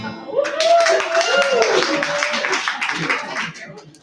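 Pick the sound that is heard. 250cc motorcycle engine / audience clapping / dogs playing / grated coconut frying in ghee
audience clapping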